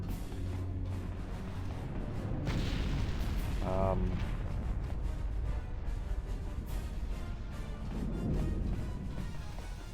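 Booms and blasts go off in combat in the video game Star Wars: Knights of the Old Republic, fairly faint and muffled beneath a person talking.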